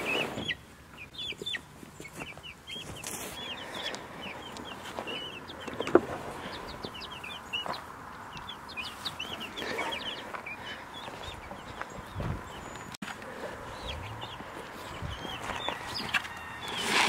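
Young chickens on fresh pasture beside a movable chicken tractor, clucking and chirping steadily in a soft, busy chorus throughout, with light rustling and an occasional thump.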